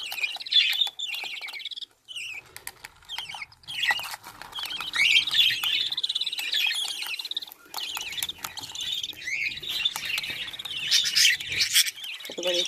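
Budgerigars, green ones alongside yellow-headed birds, keep up continuous bright chirping and chattering throughout, several voices overlapping close by, with faint scratchy rustling beneath.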